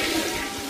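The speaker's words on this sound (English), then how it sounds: "took it into the bathroom to quote-unquote flush it" A toilet flushes in a bathroom, a brief, loud rush of swirling water heard alone.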